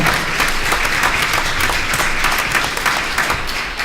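An audience at a school board meeting applauds a group of second graders, a steady, dense wash of clapping that holds for several seconds.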